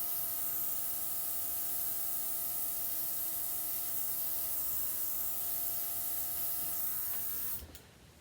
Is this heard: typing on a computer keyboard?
no